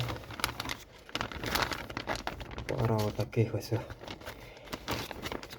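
Plastic packaging bags crinkle and rustle steadily up close while electronics parts are unpacked, with someone talking over the handling noise throughout.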